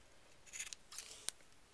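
Scissors snip through yarn string in a few quick, soft cuts, ending in one sharp click, close and quiet with no talking.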